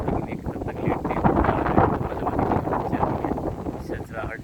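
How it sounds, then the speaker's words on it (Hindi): Leaves rustling in wind in a jungle at a survival camp as rain approaches, a steady broadband rustle and gusting hiss lasting throughout, with a voice murmuring faintly beneath it. "सरसराहट पत्तों की, मज़ा आ रहा है।"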